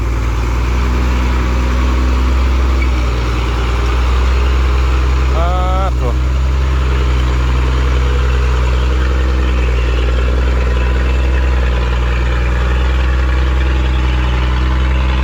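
A heavy truck engine idles steadily with a deep, constant rumble throughout, with a brief squeal in the middle.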